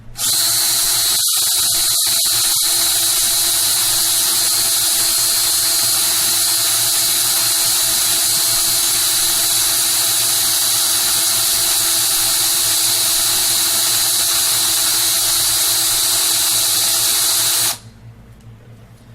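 A loud, steady drill whirs continuously for about seventeen seconds, spinning coil wire to straighten it, with a few brief rattles near the start, then cuts off abruptly.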